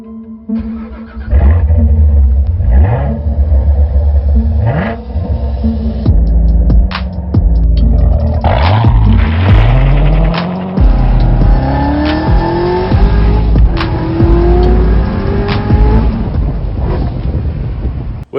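A 2015 Chevrolet Corvette Z06 engine runs loud and close, with a deep, throbbing idle that swells into repeated revs, rising and falling in pitch, and holds a steady, heavy rumble throughout with no voices.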